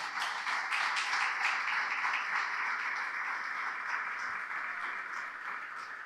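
A church congregation applauding during a sermon, dense sustained clapping that fills the room and stays steady throughout.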